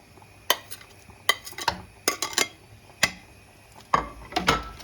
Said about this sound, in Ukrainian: Перемішуємо і ще даємо 10 хвилин прокипіти.